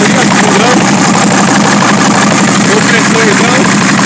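A Chevrolet D60 truck engine that is leaking a lot of oil idles loudly and steadily at close range, a dense continuous rumble with a voice faintly mixed into it.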